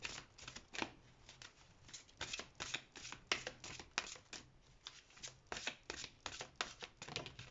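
Oracle cards are shuffled by hand in a quick run of crisp, papery riffles and slaps, about two or three per second, close and fairly quiet with no one speaking.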